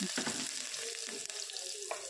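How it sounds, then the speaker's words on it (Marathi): Chopped medium onion frying with cumin in hot oil for a dal tadka, giving a steady hiss and sizzle with light stirring, fairly faint and brief. "नंतर फ्राय झाल्यावर त्याच्यामध्ये एक मीडियम साईजचा चिरलेला कांदा टाकायचा आहे आणि मिक्स करून घ्यायचा आहे"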